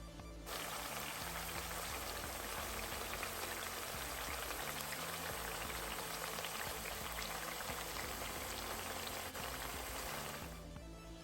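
Plantains fry in hot oil in a pan, giving a steady, dense crackling sizzle that stays even and close for the whole stretch. No one speaks.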